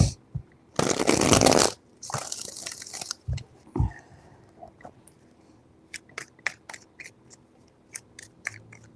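Tarot cards are shuffled in a loud burst of riffling for about a second, then a second shorter shuffle follows, with scattered soft card handling and light taps afterward; no talking.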